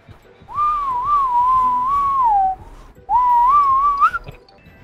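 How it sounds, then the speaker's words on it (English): A person whistles into the mic during a Dead by Daylight match, two loud wavering whistled phrases separated by a short pause, rising in pitch at the end, with faint game noise beneath. "Well, that's called the whistle tech."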